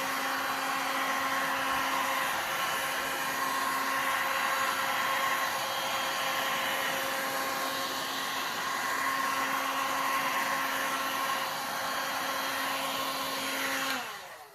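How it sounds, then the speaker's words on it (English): A heat gun blows over a marble-look resin tray in pink, grey and white, a steady, loud whooshing hum with a faint whine that runs unbroken and cuts off abruptly near the end. "make sure that that heat gun's not touching anything"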